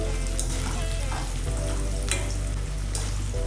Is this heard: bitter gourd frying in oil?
yes